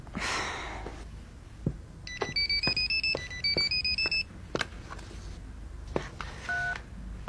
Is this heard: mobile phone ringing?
yes